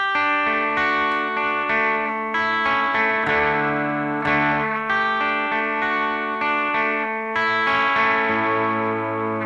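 A distorted, chorus-laden electric guitar plays the chorus lines from a song, a loud sustained run of melodic chord phrases with shifting notes and no gaps.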